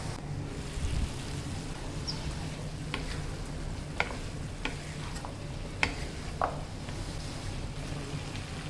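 Turmeric, ginger and garlic paste fries steadily in a pan, a low, continuous sizzle with a few sharp scrapes of stirring scattered throughout.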